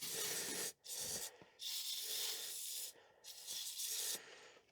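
Zep 45, a Teflon lubricant and penetrant, sprays from an aerosol can onto a Kubota BX25 tractor's three-point hitch. Three loud, close hissing bursts are separated by short pauses, with no speech.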